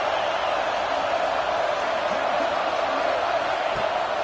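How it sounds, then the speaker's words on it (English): Loud stadium crowd roaring continuously as a steady, dense wash of noise, with no break across the stretch and faint voices mixed within. "listen to this crowd noise. This stadium is vibrating."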